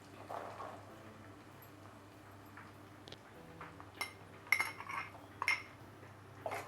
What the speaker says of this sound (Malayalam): ഇനി നല്ലപോലെ ഒന്ന് ഇളക്കി കൊടുക്കാം